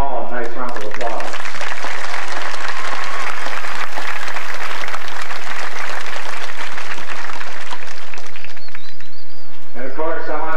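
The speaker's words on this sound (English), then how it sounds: "Let's give them all a nice round of applause." Graduation crowd at a Maine high school ceremony in a sustained round of applause for the superintendent and board, loud dense clapping with voices and chatter at the start and end.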